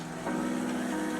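A stand mixer whips hot homemade marshmallow mixture at high speed, a steady close motor hum that rises slightly in pitch and holds evenly for about a second.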